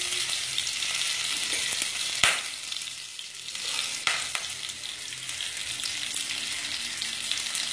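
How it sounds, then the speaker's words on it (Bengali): Green chilies and nigella seeds hit hot oil for tempering, giving a steady loud sizzle with a couple of sharp clinks from a utensil, no talking. "এর মধ্যে এবার ফোড়ন দেব"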